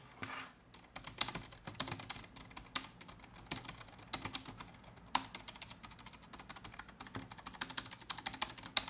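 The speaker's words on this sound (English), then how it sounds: "Here's a sound test of another scissor switch keyboard that I had laying around." Steady typing on a low-profile scissor-switch keyboard, a quick run of soft, light clicks and taps up close with no talking.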